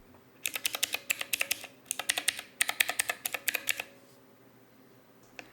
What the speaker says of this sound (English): the 6 keyboard buttons on the front are actually mechanical, and they produce the recognizable clicky sound when pressed